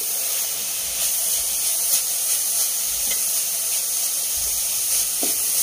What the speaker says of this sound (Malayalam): ഇനിയിപ്പോൾ നമുക്കിതൊന്ന് തുറന്ന് ഇളക്കി കൊടുക്കാം